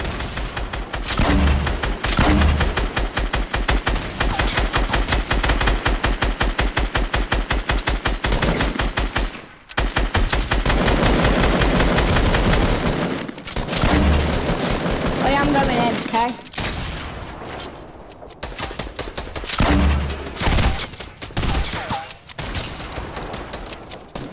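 Video game gunfire: rapid, dense automatic bursts that are loud and close, with brief pauses and booming hits between volleys and a lighter stretch toward the end, no talking.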